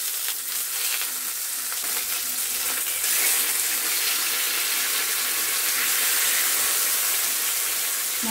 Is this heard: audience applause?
no